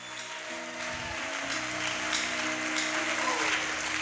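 A church congregation applauds, a soft, even patter of many hands clapping that carries under sustained organ or keyboard tones and swells slightly over a few seconds.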